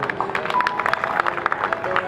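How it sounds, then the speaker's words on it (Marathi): Applause at a Mata Ramai Ambedkar birth anniversary ceremony as an honoree's mother accepts a felicitation, a steady, dense clapping crowd filling the short stretch with no break. "जोरदार टाळ्या होऊन जाऊ द्या"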